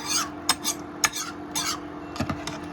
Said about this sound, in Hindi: अब इस सारी चीज़ों को हम अच्छी तरीके से मिक्स कर लेंगे